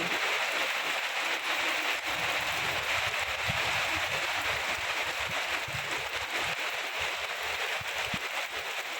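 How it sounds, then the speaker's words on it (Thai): Heavy downpour hisses in a dense, unbroken roar close by, with irregular low thuds and splashes of water landing on nearby surfaces. "ฝนตกแรงเล"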